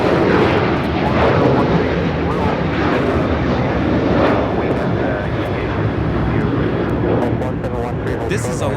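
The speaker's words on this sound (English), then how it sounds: "This is Alaska Airlines 1430 taking off to Puerto Vallarta on the 737-800." An Alaska Airlines Boeing 737-800 jet takes off at a busy major airport, its loud, rumbling engine roar filling the scene continuously and easing slightly toward the end, while people talk over it.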